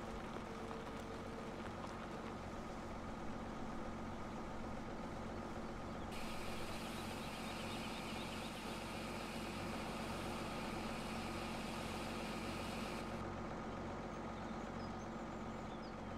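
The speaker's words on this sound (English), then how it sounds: "Turn the engine on." A vehicle engine idling in Farming Simulator 17, a steady low drone held for the whole stretch at a faint, even level, with a brighter hiss layered in during the middle and no speech.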